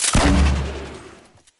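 One loud, close grenade blast in a shooter game, a sharp deep boom that decays quickly into a fading rumble, heard alone without talk.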